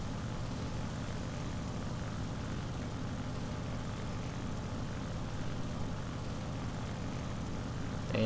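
A J2M3 Raiden propeller fighter engine drones in War Thunder, a steady dense roar held throughout a looping manoeuvre, with no talking.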